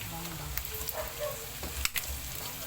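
Garlic and ginger sizzle quietly in oil with soft crackles and pops, low in level, as scattered utensil clinks and faint background voices drift through.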